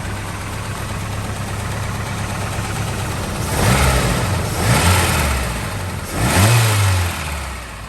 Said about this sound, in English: See if I can give her a rev from the engine bay.